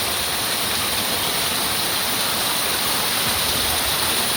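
Water pouring down a waterfall during rain, a steady, dense, broadband rush that stays constant and fairly loud throughout, with no voices.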